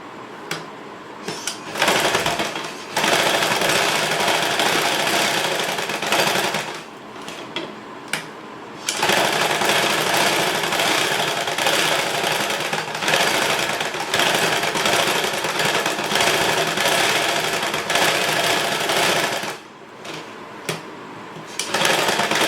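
A sewing machine runs in long bursts stitching blouse lining pieces, a loud close whirring hum with brief pauses between seams and no talk.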